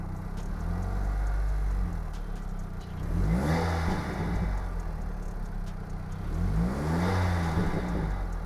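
A Volkswagen Golf 5 GTI Stage 1 engine revs up twice, each rise sweeping upward in pitch and then settling back to a steady, close idle.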